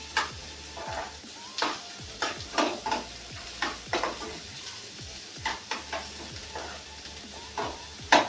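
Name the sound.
onion frying in oil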